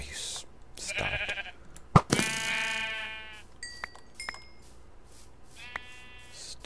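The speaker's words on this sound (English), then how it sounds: "Stinking sheep." Sheep in the video game Terrafirmacraft bleat several times, in loud wavering calls near the start and again at the end, mixed with short clicks and plucks of game sounds.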